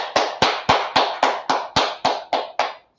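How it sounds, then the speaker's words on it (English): A class claps in a tight, even rhythm, about ten sharp, close claps evenly spaced over a few seconds, then silence. "Clap it up for the class."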